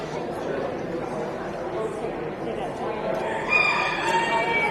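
Mediterranean class hens penned at a county fair poultry show, with clucking and a crowing call amid a dense murmur of crowd chatter and people talking nearby.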